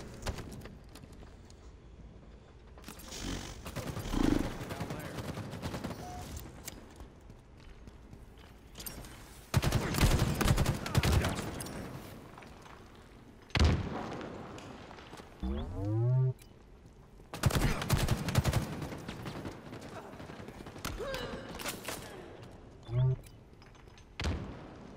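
Gunfire in the video game Halo Infinite comes in several loud, dense bursts separated by quieter gaps, with a voice speaking between them.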